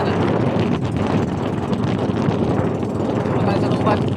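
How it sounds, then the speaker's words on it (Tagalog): Strong wind at a beach roars and buffets the microphone continuously, a loud, dense rumble that never lets up, with people talking faintly beneath it. "Lakas ng hangin."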